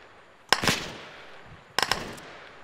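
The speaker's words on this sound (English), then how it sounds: "Yeah, we're all taking accurate fire here." Gunfire arriving as two short bursts of rapid shots about a second apart, sharp and fairly close, with quiet between them and no voices.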